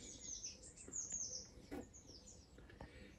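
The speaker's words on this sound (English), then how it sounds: "This is one of my favourite birds, the long-tailed tit." A long-tailed tit in an English country garden gives thin, high-pitched calls in a few quick bursts, faint and slightly distant over soft background hiss.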